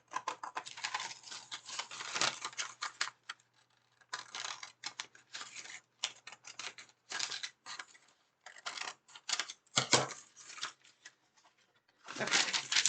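Scissors cutting through freezer paper for a hoodie stencil: repeated crisp snipping and rustling in bursts separated by short pauses, close and fairly clear, with no talking.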